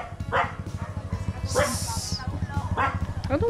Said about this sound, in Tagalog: Baka lapahin tayo ng aso.